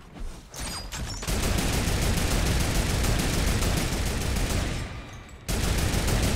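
Sustained rapid turret gunfire in Fortnite, a loud dense stream of shots that runs continuously for several seconds, with a brief dip before resuming at full intensity.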